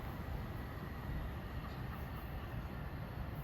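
An LIRR M3 electric commuter train, number 1511 from Huntington to Penn Station, approaches New Hyde Park during the morning rush as a steady, even rumble with no voices.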